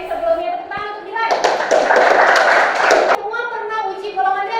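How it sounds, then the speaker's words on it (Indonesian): Pupils in a classroom clap for Dilan in a short, loud burst of mixed clapping and taps that lasts under two seconds, with children's voices talking before and after it. "Tepuk tangan untuk Dilan."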